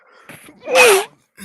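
A single sharp human sneeze, loud and close, with a breathy intake before the burst and a brief silence after.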